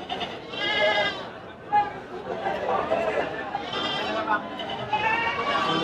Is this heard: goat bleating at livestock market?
yes